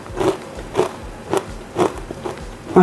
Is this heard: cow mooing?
no